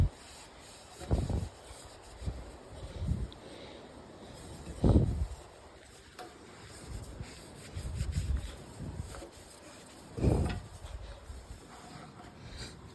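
Cloth or rag rubbing over the oil-spattered engine of a riding lawn mower with a 24 horsepower Briggs engine, near the muffler, in several separate wiping strokes, fairly close and quiet, with no talking.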